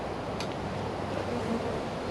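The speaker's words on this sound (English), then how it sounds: "A lot of bees in this box here." A steady, low insect buzz of many bees inside a trap box fills the whole stretch, close and continuous with no voices.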